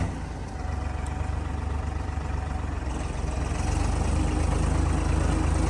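Ford tractor engine running steadily at a low idle-like rumble in a farm field, constant and fairly close, with no talk over it.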